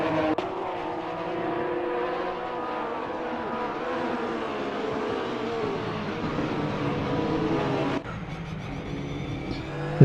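Porsche 911 race cars in a racing video game at VIR, engine notes wailing with layered, shifting tones as the cars brake and accelerate through corners, loud and continuous with a sharp change near the end.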